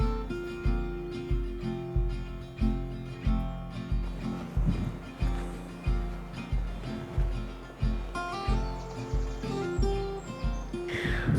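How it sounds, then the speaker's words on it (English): Small birds chirp and twitter softly at a distance over a steady, rhythmic background of lapping water. "I can hear chatter of small birds"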